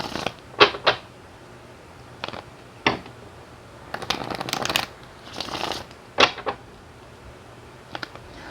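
A deck of tarot cards is shuffled by hand in several brisk, papery bursts of riffling and sliding, separated by short pauses, close up and without speech.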